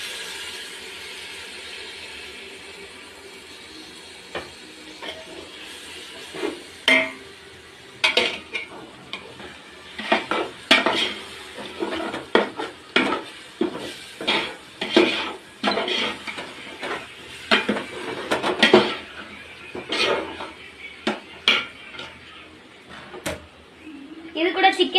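Chicken biryani masala stirred in a pot with a spoon, a run of irregular scraping clanks and knocks against the metal, close and moderately loud, with a voice speaking at times.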